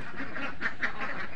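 Ducks on a duck farm quack in a short run of calls, a few louder nasal quacks standing out over a chattering flock at moderate distance.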